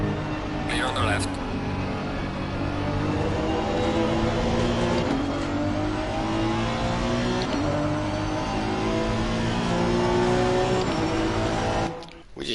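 A race car engine in Assetto Corsa Competizione revs and shifts through gears, rising and falling in pitch continuously and loudly, with a brief tire squeal, cutting off abruptly near the end while a voice talks over it.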